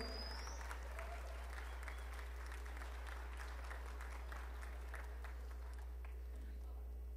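Guests at a quinceañera party in Dallas clap steadily for a mother and her daughter, a broad even patter of applause from the room, with faint murmuring underneath.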